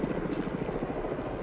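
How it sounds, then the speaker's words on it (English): Helicopter flying near a mountaintop in Whistler avalanche country, its rotor chopping in a steady, loud, continuous pulse close by. "So the helicopter's gonna be landing shortly"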